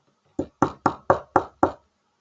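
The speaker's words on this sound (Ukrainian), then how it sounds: "Правильно, потрібно постукати. Ану, постукайте." Six evenly spaced knocks on a door, sharp and close, each a hard rap with a short decay, struck at a steady rhythm with silence before and after.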